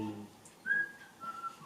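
A person whistles a short, faint melodic phrase of a few sustained notes against a quiet room background.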